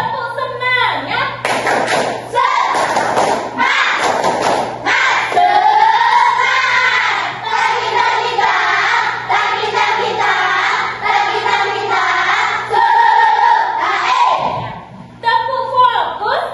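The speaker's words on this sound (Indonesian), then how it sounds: "kita tepuk-tepuk dulu supaya lebih semangat ya" A classroom of pupils claps a rhythmic 'tepuk semangat' cheer, sharp patterned hand claps in quick bursts, loud and close, mixed with children's chanting voices and a teacher leading.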